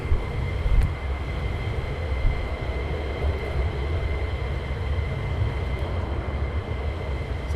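Fighter jets taxiing at RAF Lakenheath, a steady, loud engine rumble with a high whine held throughout, outdoors with wind noise.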